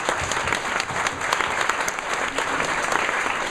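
An audience claps loudly and steadily at a CD release event, a dense unbroken wash of applause that continues throughout with no voices over it.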